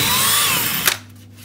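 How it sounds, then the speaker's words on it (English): A power drill with an 8mm bit whirs at high speed into a plasterboard wall for almost a second, then cuts off with a brief bite and clatter before going quiet. "I'm actually gonna drill the holes now"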